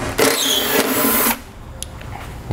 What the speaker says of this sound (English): Now we'll undo these two 8mm bolts here.